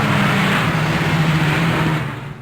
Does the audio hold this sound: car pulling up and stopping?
yes